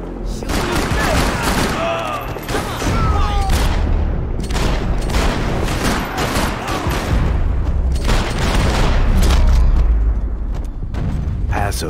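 Dense gunfire in the Max Payne 3 video game, rapid overlapping shots and bursts fired continuously with heavy booming low end, loud and close, with shouting voices mixed into the firefight.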